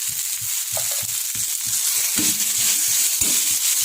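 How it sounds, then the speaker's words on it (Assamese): Greens with turmeric frying in hot oil in a pan, a steady close sizzle broken by repeated scraping and clacking stirs. "এতিয়া মই গোটেইখিনি এইদৰে ভালদৰে লৰাই ল'ম"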